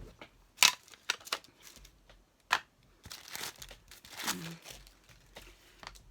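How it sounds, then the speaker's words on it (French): Small scissors cut paper stamps during scrapbooking card making, giving a few close, crisp snips and crinkling rustles of paper in quiet, intermittent bursts. "je prends un petit ciseau ici et je vais découper"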